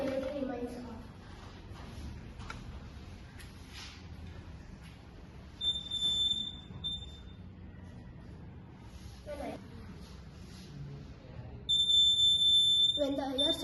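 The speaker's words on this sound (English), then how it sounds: "When IR sensor detects the flame, the output goes low, activating the LED and the buzzer." A buzzer on a homemade IR flame sensor fire alarm gives two steady high electronic tones, one short and one longer near the end, between stretches of quiet with a voice talking in between.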